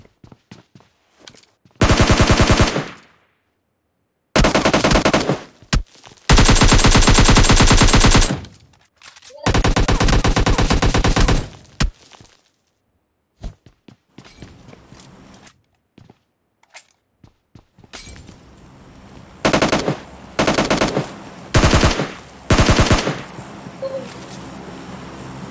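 Machine gun fire in a video game crackles in several long, loud automatic bursts separated by quiet gaps, with shorter rapid volleys near the end.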